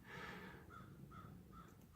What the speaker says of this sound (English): There's an angry crow outside